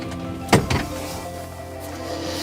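The swivelling cab seat of a 2019 Carado T135 motorhome turns back into place, giving two quick mechanical clunks close by over a steady low interior hum.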